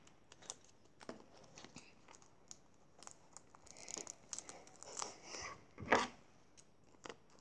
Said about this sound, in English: Gonna have to rip it a bit more.